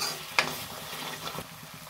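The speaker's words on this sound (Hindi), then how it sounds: "और जब हम इसमें नमक डालकर भूनेंगे तो और जल्दी भून जाएगा, तो इसको हम अच्छे से भून लेते हैं।" Masala for matar paneer fries in oil with a low sizzle, and a spoon scrapes through it in a short sharp clack followed by soft stirring, with no voices.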